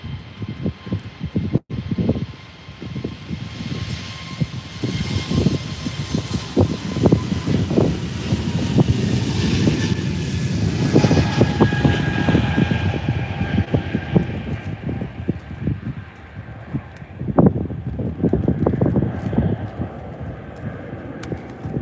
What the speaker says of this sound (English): So here goes the Air Baltic inaugural flight takeoff to Riga.